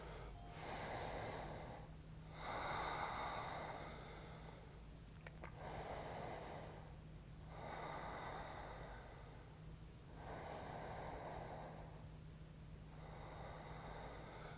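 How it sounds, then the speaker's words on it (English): Slow, deep breaths during a yoga flow, long inhale-exhale swells repeating about every four seconds over a steady low hum, close and fairly quiet with no talking. "take a few deep breaths right here"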